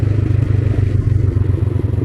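A motorcycle engine thrums steadily and close while riding a rough jungle trail at Khaira Gali, its low pulsing drone running continuously with faint clatter from the bumpy ground.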